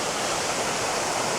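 A waterfall on a river in Montana, a steady broadband rush of falling water that fills the short stretch evenly without pause, close and fairly loud, with no voices.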